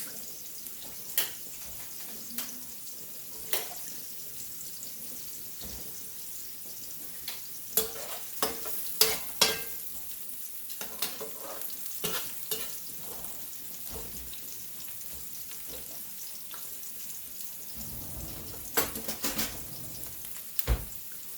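Vegetables sautéing in a pan give a quiet, steady frying hiss. Scattered utensil clinks and stirring knocks sound close by, louder near the middle and the end, and no one speaks.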